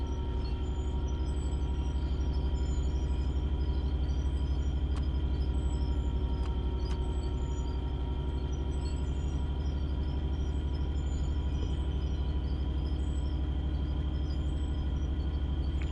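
Train in a video game, driven like a diesel truck: a steady, loud low rumble and engine drone hold for the whole stretch, with a faint constant hum above and a few soft clicks, no talk.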